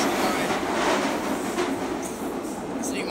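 A train running through an underground tunnel gives a steady, loud, continuous rumbling roar that fills the whole stretch with no talking.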